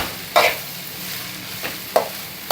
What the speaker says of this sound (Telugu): ఇందులోనే ఇలా వేపుకునేటప్పుడు మనం ఇలా కలుపుతూ ఉండాలి ఖచ్చితంగా